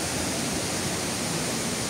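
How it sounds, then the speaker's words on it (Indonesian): A clear river stream fed by the Jumog waterfall in Karanganyar rushes in a steady, dense wash of water noise, constant and moderately loud with no voices. "Sebelah kiri ini adalah aliran sungai yang jernih yang bisa digunakan untuk berenang atau bersantai, yang berasal dari air terjun Jumok"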